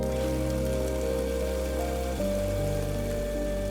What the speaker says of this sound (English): the gentle sound of rain